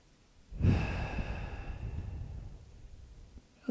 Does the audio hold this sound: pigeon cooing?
no